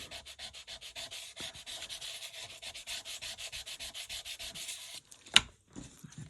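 An eraser rubbing out a mark on paper in a stamping craft project: fast, even back-and-forth scrubbing strokes, faint and close, running for about five seconds before a single sharp tap and quiet handling noises.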